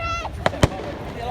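Fireworks over Bognor Pier at a wedding celebration, with two sharp bursts popping in quick succession mid-clip amid crowd chatter and voices nearby.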